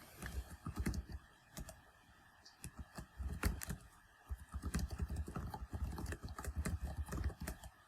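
Rapid, uneven clatter of keys as account details are typed on a computer keyboard, close and fairly quiet, in bursts with short pauses and no talking.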